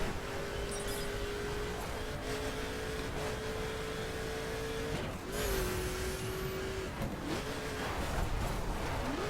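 Hotrod car engine in The Crew racing game, a steady droning tone that climbs in pitch as the car accelerates, dips briefly around a gear change, then rises again under continuous road noise.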